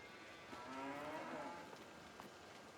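One cow in a Farming Simulator 22 barn gives a drawn-out low moo near the start, faint over a quiet background hiss, then the ambience settles.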